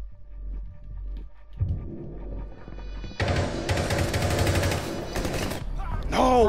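Rapid automatic gunfire bursts from a Rainbow Six Siege firefight, sounding dense and loud after a quieter start. Voices talk under the shooting, and a short rising tone follows at the end.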